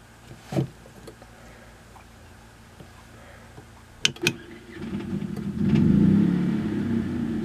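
An auto-start generator engine cranks with a few sharp clicks, then catches roughly into a rising, uneven mid-pitched running rumble, close and fairly loud.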